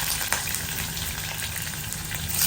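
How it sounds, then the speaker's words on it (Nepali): Garlic and onion fry in a pan with a loud, dense, continuous sizzle that holds steady and close, with no one speaking. "मैले मजाले मेरो गार्लिक र अनियनलाई मस्त भुट्दैछु गाइस"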